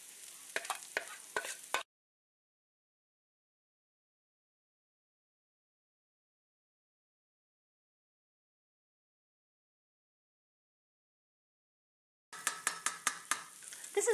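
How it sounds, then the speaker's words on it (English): A spoon scrapes and clinks against a pan as it smashes a frying onion and tomato mixture seasoned with paprika, cumin and garlic powder, in two short sizzling bursts separated by a long silence. "This is a really good time to use your spoon to cut down your mixture and smash it a bit."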